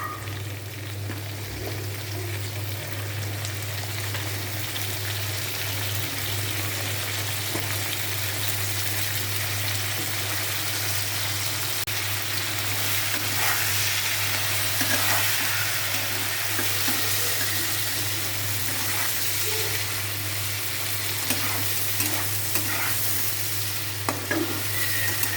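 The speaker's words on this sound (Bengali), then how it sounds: "আলুগুলো ভাজা হয়ে গেছে, তোর বরবটিটা দেবো।" Fried potatoes and green beans cook in a pan with a continuous sizzle and frequent scraping stirs, close up. A low steady hum runs underneath and no one speaks.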